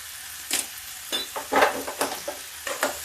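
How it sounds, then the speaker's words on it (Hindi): Long-sliced tomatoes frying in a pan of cooking masala for a matar malai curry, stirred in a few quick scraping bursts over a soft, steady sizzle, close up with no talking. "इसमें टमाटर डाल देते हैं लंबा लंबा काट के, ये लंबे पीस में ऐसे काट के डाल देते हैं।"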